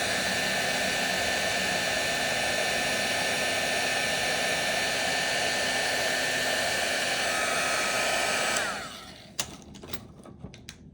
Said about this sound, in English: I use a heat gun, but of course a lighter works, but I think it's usually gentler and works really well.